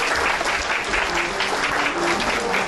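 Warm, steady applause from a hall audience greets a contestant at a science communication competition final in Korea, a short even burst of many hands clapping.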